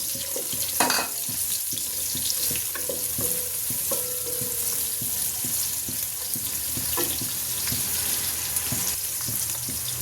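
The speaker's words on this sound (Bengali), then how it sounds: "তেলটা গরম হয়ে গেছে, আমি পেঁয়াজটা দিয়ে দিচ্ছি। পেঁয়াজটা একটু আমি লাল করে নেই।" Onions fry in hot oil with a continuous close sizzle, punctuated by scattered clicks and light scraping knocks of stirring, with no talking.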